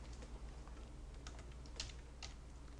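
Keys on a computer keyboard are tapped in a few light, scattered presses, faint and close against a low steady background hum, with no talking.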